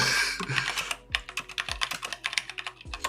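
Fast, uneven typing on a computer keyboard, close and crisp clicks and clacks in irregular bursts with a few louder thumps, alone with no talk.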